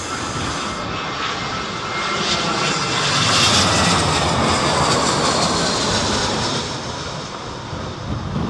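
An airplane comes in to land at Heathrow airport during Storm Isha, its engines a loud, steady roar that swells and fades, mixed with gusting wind buffeting the microphone.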